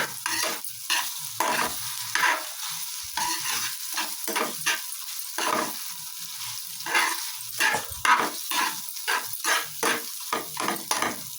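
Maggi egg fried rice being stirred in a pan: a steady run of scraping, clattering spatula strokes over a soft sizzle, close and fairly loud, with no talking.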